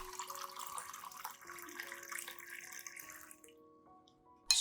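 Room-temperature water runs steadily with a soft splashing pour over rice for several seconds, then stops, leaving near silence before a brief clatter at the end.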